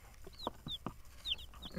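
Young chicks cluck and peep close by, a handful of short soft clucks mixed with high thin chirps in an irregular rhythm, with no talking over them.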